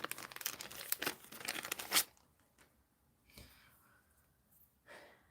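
Adhesive tear-and-tape is crinkled and torn close up during card making, a dense rustling burst for about two seconds, then quieter scattered handling with soft breaths.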